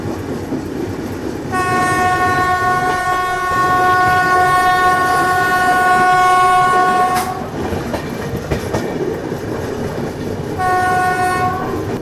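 A train rumbles steadily through a railway yard near Nagpur station with rhythmic wheel clatter, its loud horn blaring long and sustained, then sounding again briefly near the end.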